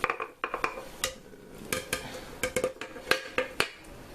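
Mostly cooked beef is spooned into a crock pot for a weeknight beef stew, with a rapid series of sharp metallic clinks and scrapes of utensil against pot at close range.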